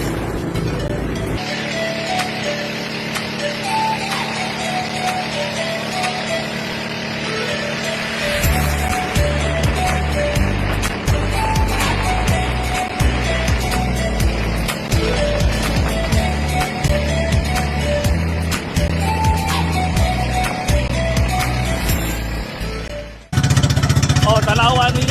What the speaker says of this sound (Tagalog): Single piston 20 HP ProQuip CS Power.